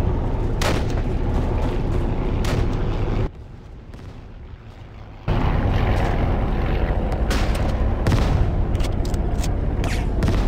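Gunfire and heavy booms from the WWII Online video game fight near a vehicle spawn roll on as a dense, loud barrage with sharp reports, dropping briefly to a quieter lull before the firing resumes.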